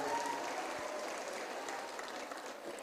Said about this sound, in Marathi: एकदा जोरदार टाळ्या या लावण्यखणीला।